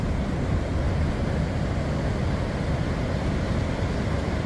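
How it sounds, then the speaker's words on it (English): Ocean surf rolls in on a drizzly, rainy day, a dense, continuous roar of waves and wind noise at an even loudness with no voices. "Go and have a look at the ocean, see what it's up to."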